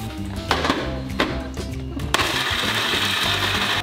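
A home mixer grinder with an overfilled jar kicks in partway through, becoming a loud, steady grinding whir that continues to the end, following a few sharp clunks.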